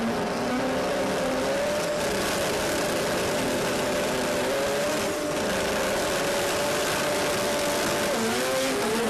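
Mazda RX3 race cars launching at a drag racing event in Sydney, giving a loud, sustained engine roar with a rising, revving tone that fills the whole stretch, without speech.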